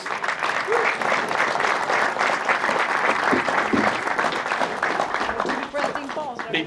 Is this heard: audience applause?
yes